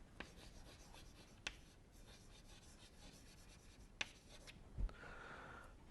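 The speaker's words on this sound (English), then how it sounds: "I will write here macrofluid." Marker or chalk writing on a board during a chemical engineering lecture on non-catalytic gas-solid reactors, a faint steady rubbing scratch with a few sharp taps, heard alone in a quiet room.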